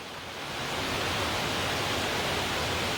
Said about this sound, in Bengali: বাইরে ঝুম বৃষ্টি হচ্ছে আমাদের এখানে